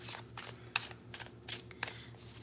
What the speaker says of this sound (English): I'm giving it one more shuffle, and then we're pulling the good old-fashioned way.